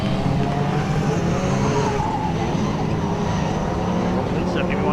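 Ford Fiesta rallycross supercars racing at Mondello Park, engines snarling in a dense continuous roar with rising revs and tyre scrabble, loud and close, with a voice talking over the noise.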